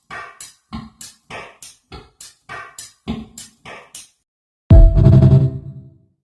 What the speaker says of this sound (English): Let's add some reverb. Drum kit sounds like this.